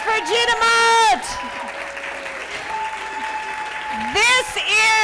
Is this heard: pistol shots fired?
no